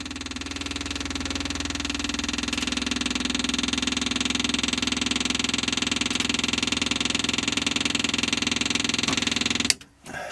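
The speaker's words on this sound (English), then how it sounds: "Let me get a few seconds of fuel pump, get fuel into the carburetors." The electric fuel pump on a Rotax 912 aircraft engine sends fuel to the carburetors with a steady, rapid mechanical ticking buzz for about ten seconds. It then cuts off abruptly, followed by a brief thump.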